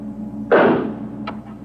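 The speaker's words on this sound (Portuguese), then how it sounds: "Acabo de fazer 2 disparos no quarto ao lado." One gunshot from the next room lands as a sharp, dull bang, followed by a fainter second pop about three-quarters of a second later, over a steady low background hum.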